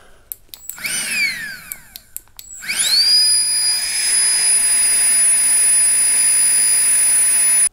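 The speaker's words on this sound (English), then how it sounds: "So I've got my FLEXTAIL mini pump, and let's go ahead and" A FLEXTAIL mini pump inflating an insulated sleeping pad: a few clicks and a short rising whine, then the motor spins up to a loud, steady, high-pitched whirring drone that holds for several seconds close by.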